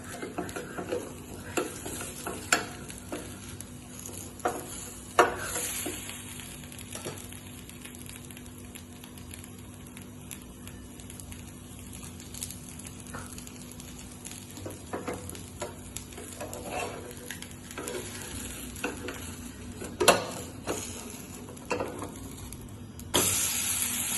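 Moong dal and rice batter fries in oil on a pan with a soft, steady sizzle, broken by intermittent spatula taps and scrapes that stand out in bursts.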